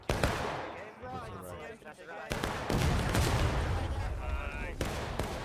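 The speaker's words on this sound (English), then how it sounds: "Another arty shot coming in, this one a little bit less effective" Artillery shells strike in the Civil War game War of Rights: a sharp booming impact cracks through, then rumbling blasts and scattered musket fire follow, with a voice talking over the first part.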